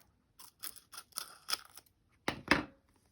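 Scissors snip paper for a journal cover in a handful of short crisp cuts, then a louder double snip near the end, close and clear with no talking.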